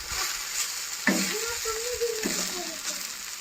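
Bathua (leafy green) fritters fry in a small amount of oil. A steady, close sizzle carries on throughout, and a voice briefly sounds in the middle.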